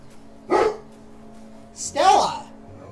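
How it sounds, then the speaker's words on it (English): A dog barks twice, close by, with a short pause between the sharp barks, over a faint steady hum. "Stop barking, you dummy."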